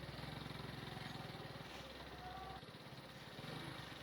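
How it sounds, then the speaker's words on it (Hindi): Motorcycle ridden along a narrow path through dense forest: a close, steady engine drone with a pulsing putter, slightly dropping in tone midway before rising again. "एक छोटी सी डंडी है जिसके ऊपर मैं बाइक लेके जा रहा हूँ"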